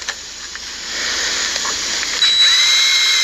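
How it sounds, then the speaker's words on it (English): A power drill bores holes through a metal car bracket, a steady whining hiss that holds for a few seconds and grows slightly louder toward the end, with no talk over it. "I might have to drill it even bigger"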